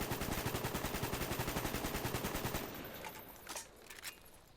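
An AK47 rifle fitted with a red dot sight fires a fast burst of evenly spaced loud shots for over two seconds, then stops, leaving a short ringing tail and a couple of faint knocks.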